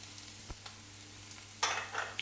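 Onions and paprika hit a hot pan in a home kitchen, a faint low hum giving way to a sudden burst of sizzling that crackles on for the last second, with a soft knock of a utensil earlier.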